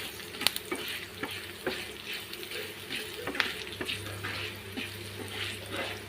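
Turmeric, chilli powder and other spices fry in hot oil for a raw banana stir-fry, crackling softly while a spoon scrapes and clicks against the pan at intervals.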